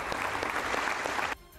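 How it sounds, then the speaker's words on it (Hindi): Members of Australia's parliament rise from their seats in a dense, steady ovation for Zelensky, the crowd-wide clapping filling the hall before cutting off sharply near the end. "सभी अपनी कुर्सियों से खड़े हो गए और तालियां बजाकर उनकी हौसला अफजाई की"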